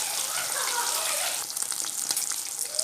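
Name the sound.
mosapparai fish frying in oil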